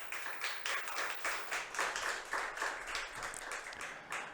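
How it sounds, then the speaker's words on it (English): An audience at an international forum conference claps in a sustained round of applause, many hands at a moderate distance with no voices over it. "I love the claps"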